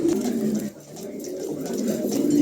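A pair of pigeons, the female having laid eggs, coo nearby in repeated low throaty phrases that swell and fade almost without a break.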